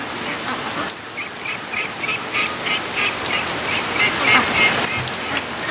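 Heavy rain hisses steadily while several Muscovy ducks give soft, repeated quacking calls nearby, with no one speaking.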